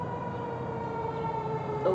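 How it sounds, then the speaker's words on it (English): A fire truck or ambulance siren wails steadily in the distance, a faint, continuous rising-and-falling tone over low background hum. "I think that's a fire truck or ambulance."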